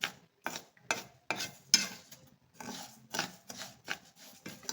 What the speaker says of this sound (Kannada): ಈ ಥರ ಸ್ವಲ್ಪ ಫ್ರೈ ಮಾಡ್ಕೊಳ್ಳೋಣ ಸಕ್ಕರೆ.